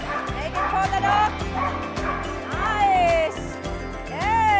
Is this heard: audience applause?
no